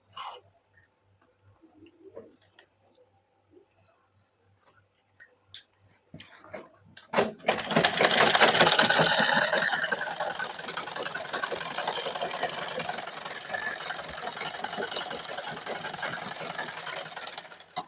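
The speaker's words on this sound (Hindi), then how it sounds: "यहाँ पर डबल सिलाई ऊपर से हम लगा लेते हैं।" A sewing machine stitches a double seam along a pajama, starting up after a few quiet taps and handling noises, then running as a steady close mechanical whirr with a fast needle rhythm, loud and continuous to the end.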